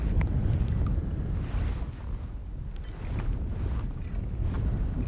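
Wind gusts buffet the microphone beside a spring creek during fly fishing, a loud, low rumbling roar that swells and eases over several seconds, with no talking.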